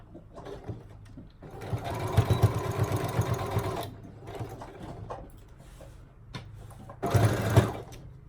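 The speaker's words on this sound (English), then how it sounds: "we're gonna stitch right here and we're gonna stop an inch under where this pocket starts" Sewing machine stitching sweatpants fabric in bursts, a close rapid mechanical whir that runs for a couple of seconds, stops, then starts again briefly, with quiet handling noise in the pauses.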